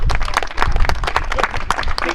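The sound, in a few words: applause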